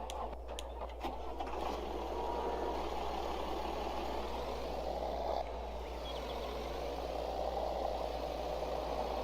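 A tractor engine idles in Farming Simulator 22 with a steady low mechanical drone, after a few clicks at the start, holding even and close throughout.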